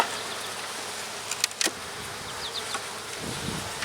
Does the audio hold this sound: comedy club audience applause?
no